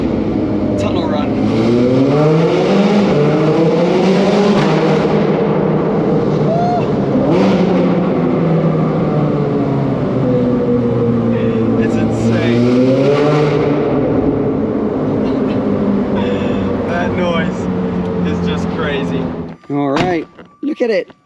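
Ferrari 430 Scuderia engine revving hard inside a tunnel, loud and close, its pitch climbing and falling in repeated sweeps before the roar cuts off abruptly near the end.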